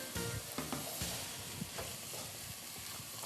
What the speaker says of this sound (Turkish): Karıştırmaya devam ediyor Ayşegül Hanım